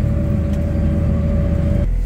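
A JCB Fastrac tractor cruising on a small road in top gear at about 55 km/h, its engine a loud, steady low drone from inside the cab that drops away near the end.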